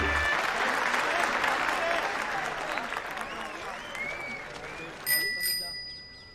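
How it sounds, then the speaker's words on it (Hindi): A loud, clapping-like rustle slowly fades, then a bicycle bell rings clearly twice near the end, bright and close. "घंटी बढ़िया है इसकी"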